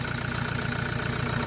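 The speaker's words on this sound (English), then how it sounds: "can you hear us over the engine?" A Toyota Hilux engine idles in a steady, close, continuous rumble with an even low throb, running alone without voices.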